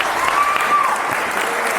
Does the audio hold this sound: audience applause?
yes